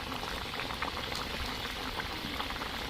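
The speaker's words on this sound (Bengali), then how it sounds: "ঝোলটা ফুটে গেছে" Curry gravy for a rohu fish and yam dish bubbling at a steady boil in a pot, a dense continuous burble of popping bubbles, close and even throughout, with no talking.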